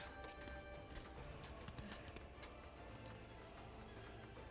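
Horses in the Medieval Kingdom Wars video game, faint whinnies and clip-clopping hooves over a constant low bed of game ambience, with scattered brief clicks and no talk.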